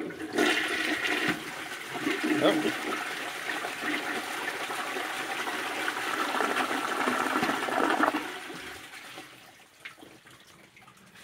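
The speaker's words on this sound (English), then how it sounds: "We'll flush this one on an overfilled tank." A 1958 Briggs toilet flushes with an overfilled tank, a loud rushing gurgle of water that holds strong for several seconds, then drops off into a softer trickle as the bowl refills, with one brief exclamation at the start.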